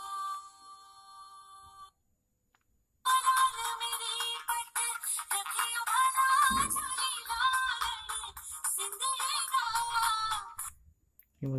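Melodic ringtone from a Karbonn K flip phone, playing steadily, stopping for about a second, then returning much louder and fuller with a bright, busy melody until the end.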